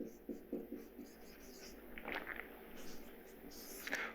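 Writing on a board during a chemistry lesson produces quiet scratchy strokes and taps in short irregular bursts, faint and close, with a soft voice occasionally in the background.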